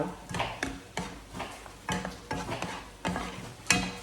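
Minced pork is stir-fried for pad kaprao without basil, with a spatula scraping the pan in regular strokes about twice a second over a light sizzle, close and without talk.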